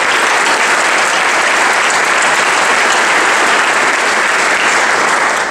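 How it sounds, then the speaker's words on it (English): Large Chamber of Commerce gathering giving a loud, sustained round of applause to new members, a thick continuous wash of clapping from many hands throughout. "Let's give a round of applause to those new members."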